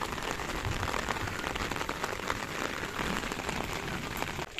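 Rain pours steadily at a temple in Sirmaur, Himachal Pradesh, a dense, even patter on surfaces with no talking.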